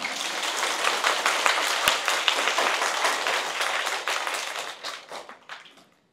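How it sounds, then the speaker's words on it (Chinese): An audience at a Longevitology healing testimonial talk claps together in loud, steady applause that fades away at the end. "借由大家掌声帮我感谢他们"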